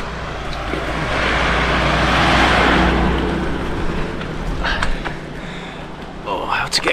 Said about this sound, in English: Just a car coming here.